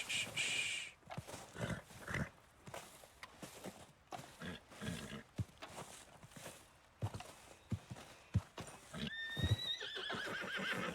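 A horse neighs and whinnies while being broken in within the video game Red Dead Redemption 2. Hooves clip-clop and stamp in repeated bursts, and the shrill cries are heard near and loud with no talk.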